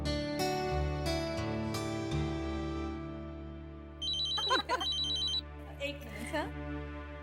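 A telephone rings in two bursts of trilling electronic tones as a call is placed home in a Hindi TV drama scene, loud and close, following sustained background music.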